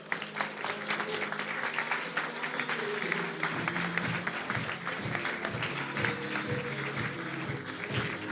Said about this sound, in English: Give us a massive round of applause